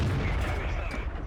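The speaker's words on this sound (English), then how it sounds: "He fires a shot." A single tank gun shot in a tank battle video game, a heavy low boom followed by a short rumbling decay, with a voice faintly behind it.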